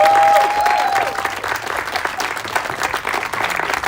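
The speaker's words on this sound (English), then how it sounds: "big round of applause to them" An audience at an SB805 press conference breaks into applause, a loud, sustained burst of many hands clapping that tapers slightly, with a brief tonal squeal near the start.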